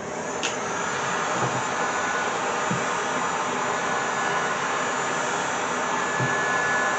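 A heat gun blows hot air onto sound deadening material inside a VW, a steady, loud whooshing roar that holds for the whole stretch with a few faint clicks beneath it.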